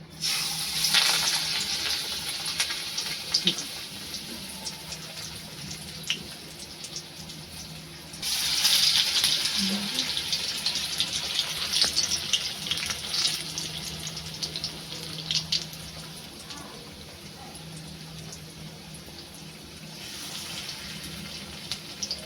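Leaf bhaji fritters, large leaves dipped in gram-flour batter, frying in hot oil, giving a steady broadband sizzle and hiss that swells in louder bursts as more battered leaves go in, with no talking.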